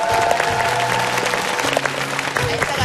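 Studio audience clapping steadily at a Korean TV health show, a dense, continuous wash of applause holding at even loudness throughout with no voices standing out.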